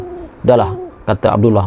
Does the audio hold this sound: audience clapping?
no